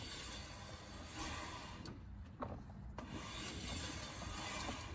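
A Toyota Prado wheel spun by hand, giving a steady grinding rush with dragging brake friction, a brief dip and a couple of clicks midway, close and continuous with no talking.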